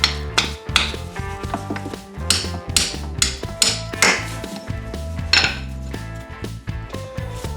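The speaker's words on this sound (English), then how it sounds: "Give it a little tap, tap," A metal part is tapped back into place on a Kubota BX tractor, heard as repeated loud, ringing metallic knocks at an uneven pace, close up and without talking.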